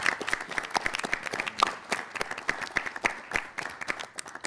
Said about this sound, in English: Let's have a big round of applause for all of our amazing competitors.